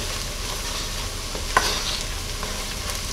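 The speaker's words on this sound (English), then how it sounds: "And you want to stir pretty consistently while this is happening." Flour and garlic cook in a pot while being stirred steadily, giving a constant close sizzle with soft scraping strokes and one brief clink near the middle.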